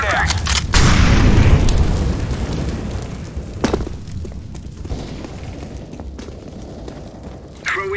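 A flashbang grenade goes off in Counter-Strike on the Inferno map, a loud booming burst near the start followed by a long decaying ring, with a sharper pop later amid gameplay noise.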